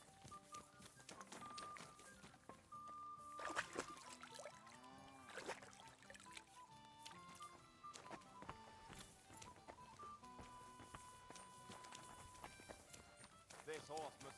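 Horse hooves clatter in Kingdom Come: Deliverance II, an irregular clip-clop running through the whole stretch, mixed with game sounds and voices talking over it.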